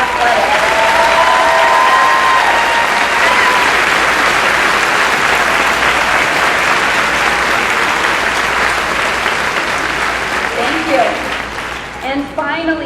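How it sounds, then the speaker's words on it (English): A high school graduation crowd applauding athletes, loud sustained clapping filling the hall for several seconds before tapering off, with a voice briefly speaking near the end. "please stand and receive our applause for excellence in athletics"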